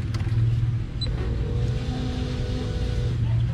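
A fuel pump primes in a turbocharged Daihatsu Zebra, a low steady electric hum and whir close by with faint mechanical ticks, no talking over it.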